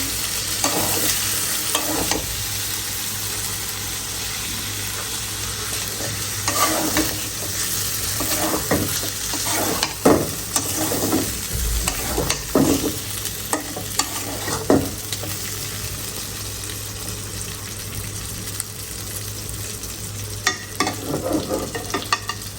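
Hilsa fish pieces, heads and tails, frying in a pan with spices, a continuous sizzle broken by repeated scraping stirs and occasional knocks of the utensil against the pan.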